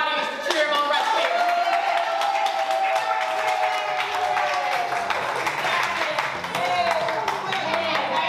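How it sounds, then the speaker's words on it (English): A party audience at a Family Feud–style birthday game cheers and claps in a steady, dense wash of applause and crowd noise that carries on throughout. "Can I get my audience to cheer him on right quick?"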